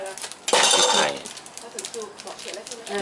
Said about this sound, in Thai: ช่วงที่เราต้มก็จะมีฟองออกมาอย่างนี้ พี่ช้อนฟองทิ้งไป